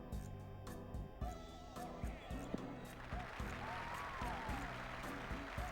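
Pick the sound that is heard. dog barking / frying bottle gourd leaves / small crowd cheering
small crowd cheering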